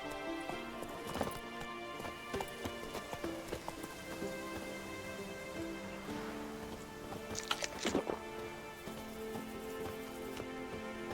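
Roach, the horse in The Witcher 3, gallops along a path with a steady rhythmic clip-clop of hooves over a bed of rain and ambient game music, one brief snort or whinny rising partway through.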